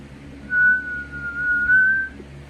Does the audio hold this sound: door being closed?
no